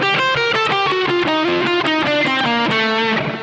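Distorted electric guitar rips through a quick run of rapidly picked notes stepping down and back up in a solo, steady and loud, with no talking.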